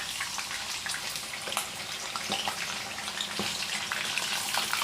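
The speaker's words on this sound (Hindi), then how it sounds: "चिकन ऑयल हमारा गर्म हो चुका है और ये चिकन जो हमने डिप किया था इसको हम इसके अंदर शैलो फ्राई करेंगे।" Dipped chicken pieces shallow frying in hot oil, a continuous soft crackling sizzle with scattered pops and small bursts, close and moderately quiet, with no voices.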